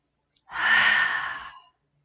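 A single forceful puffing exhale through the mouth during dragon-breath yoga, a breathy rush lasting about a second that rises fast, holds steady, then fades, close and clear with near silence around it.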